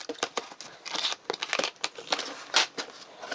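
A well-packed delivery parcel being opened by hand, with repeated sharp crinkling, tearing and rustling of packing material in irregular bursts, close and fairly loud, without talk.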